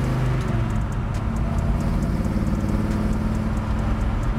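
A 1967 Chevelle with a 454ci V8 rumbles while being driven, a deep, steady engine drone with a low throbbing texture heard close and continuous throughout.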